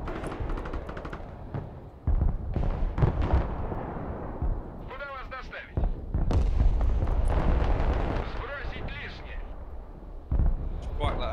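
Artillery fire in the Broken Arrow video game: repeated heavy booming blasts and bursts that come in clusters, loud and close, mixed with battle noise and people talking over it.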